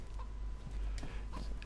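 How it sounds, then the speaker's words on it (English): A chicken clucks in the video game DayZ, a few short, scattered clucks heard at moderate distance over a loud, steady low rumble of background noise. "I hear a chicken."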